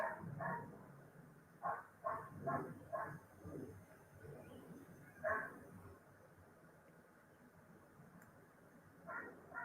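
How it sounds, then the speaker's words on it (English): A dog barks in a series of sharp yips and barks, several in quick succession then more spaced out, moderately distant and fairly faint against a quiet room. "doesn't that dog ever shut up?"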